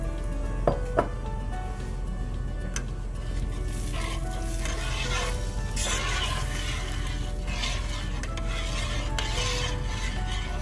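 A spoon stirs and scrapes through a pot of spicy pork and beef meatball curry, giving repeated rasping rubs and occasional metallic clinks against the pot over a steady background hum, with no voices.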